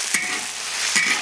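Shrimp dropped into a pan of frying ciba chili paste bring a loud sizzle with two sharp clanks of a utensil against the pan.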